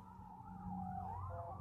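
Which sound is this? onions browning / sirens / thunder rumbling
sirens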